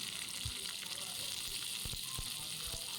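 Onions for chutney sautéing in a pan give a steady, close sizzle and fry hiss throughout, with a few soft stirring knocks underneath.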